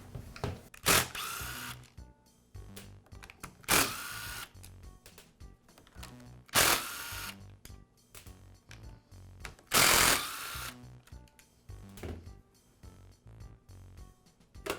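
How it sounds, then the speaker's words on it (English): Side cover being removed from an Echo string trimmer handle with a power screwdriver, four loud whirring bursts a few seconds apart separated by quiet handling clicks, no talking. "I'll begin by removing the side cover from the handle."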